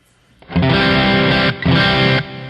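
Two bursts of heavily distorted electric guitar chords through a Lekato Cube Baby amp-modeling pedal with no impulse response loaded, loud and buzzy with a harsh, unfiltered top end, separated by a brief gap.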